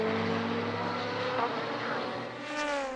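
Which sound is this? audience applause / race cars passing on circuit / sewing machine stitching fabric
race cars passing on circuit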